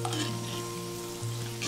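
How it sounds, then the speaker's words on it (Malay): Onions frying in hot oil in a home kitchen, a soft continuous sizzle with faint stirring, steady and fairly quiet throughout with no voices. "Goreng semuanya dalam minyak panas dan kita kena kacau sampai dia sederhana rangup lah"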